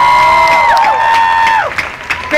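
Festival crowd in Manila applauding a band at an outdoor music event, a dense wash of clapping and cheering that holds steady and loud throughout, with sustained vocal tones and whoops riding over it.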